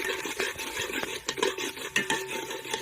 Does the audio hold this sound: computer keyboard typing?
no